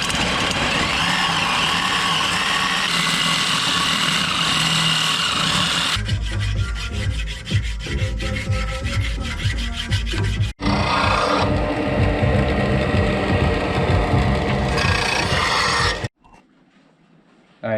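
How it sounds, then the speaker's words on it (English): Sawzall reciprocating saw cutting through a metal alternator bracket on an LS-swapped Nissan 240SX, a loud continuous rasping buzz that shifts in pitch and texture through the cut before stopping abruptly near the end. "use a sawzall to cut all the way down"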